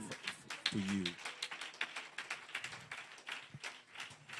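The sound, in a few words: applause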